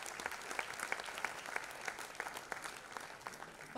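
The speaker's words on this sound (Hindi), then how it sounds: "बहुत सारी तालियां इनके लिए" Audience applauding for musicians at a concert, a moderately loud spread of clapping from a crowd, with individual claps popping out of the steady patter.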